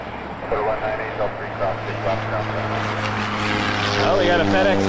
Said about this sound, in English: we got a FedEx feeder coming in. Cargo Master.